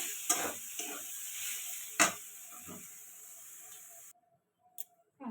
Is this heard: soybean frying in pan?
yes